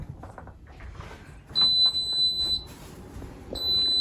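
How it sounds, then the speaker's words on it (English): Two electronic beeps, each held about a second with a pause between, ring out over a quiet background hum. "Okay, so it's beeping. It's telling me it's done."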